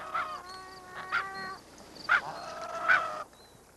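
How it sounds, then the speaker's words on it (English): Pelicans at a nesting colony on an island in a flooded pan give a few spaced, honking, goose-like calls. Each call is clear and moderately loud over a faint outdoor background. "pelicans have come to nest on an island in the flooded pan"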